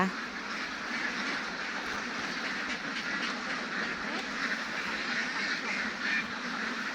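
Egg-laying ducks kept in a rubber tree plantation, a dense, continuous chorus of overlapping quacks from a large flock, moderately loud throughout.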